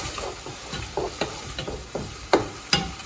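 Onions and tomatoes sautéing in a pan, a soft steady sizzle broken by repeated scraping stirs, with two sharper, louder scrapes near the end. Close and fairly quiet, with no talking.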